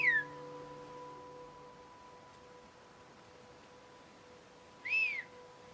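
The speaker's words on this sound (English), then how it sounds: "3 communities that practice a form of whistled language." Two sliding, pitched whistles of a whistled language from northern Turkey's Black Sea region, one at the start and one near the end, sounding out over a steady electronic hum with quiet between them.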